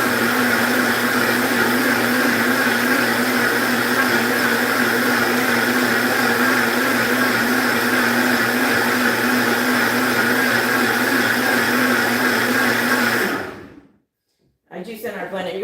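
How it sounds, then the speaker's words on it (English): A countertop blender runs loud and steady for about thirteen seconds, juicing and blending plant-based produce, then cuts out abruptly into near silence before a brief burst of noise. "juice in our blender. You're going to see me juice and blend today."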